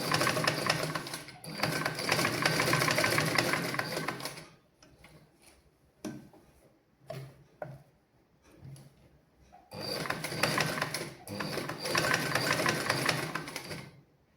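Sewing machine stitching fabric in two long close bursts of rapid whirring, separated by a quieter stretch of scattered clicks and handling noises.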